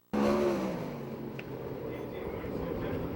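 A 410 sprint car engine drones through a qualifying lap in a USAC/CRA sprint car event at Perris, California, with a sustained loud roar that starts abruptly and holds steady, while an announcer talks over it.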